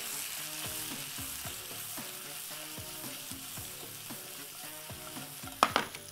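Garlic and shrimp sauté in a pan for a shrimp tagine: a steady close sizzle with rhythmic, repeated stirring strokes, ending in a sharper clatter of the utensil.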